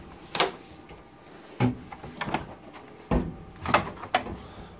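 Doors of a four-door 18 cubic foot propane and electric fridge in a 2018 Columbus Compass 378MB luxury fifth-wheel RV opening and closing, giving several sharp thumps and clicks in pairs spread over a few seconds, close and fairly quiet.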